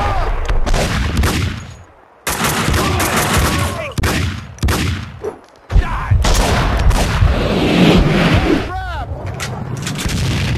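In the Max Payne 2 video game, a grenade blast and heavy gunfire erupt in dense, loud bursts of booming shots and rattling fire. Shouted voices come between them, and there is a brief sharp cutoff partway through.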